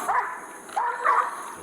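A dog barks nearby in three short, sharp yips in quick succession, loud and clear against a quiet background.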